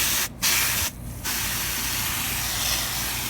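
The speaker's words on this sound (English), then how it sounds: "we're going to spray it as low pressure as possible with the garden hose" A garden hose sprays water at low pressure onto a K&N air filter, producing a loud, steady hissing rush that cuts out briefly twice near the start before running continuously.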